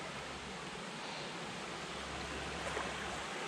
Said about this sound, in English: I'm guessing it's a fairly healthy creek.